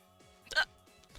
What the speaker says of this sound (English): Oh, hiccup.